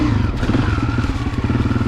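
A Honda CRF250F dirt bike rides a slow fall trail, its engine a close, loud, steady chugging with clattering and crackling from the terrain, brief and without talk.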